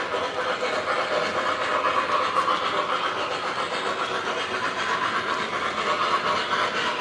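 A train runs along the old PRR railroad line beside the tracks, giving a continuous loud rumbling roar with a gritty rolling texture that holds steady throughout.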